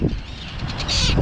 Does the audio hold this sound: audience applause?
no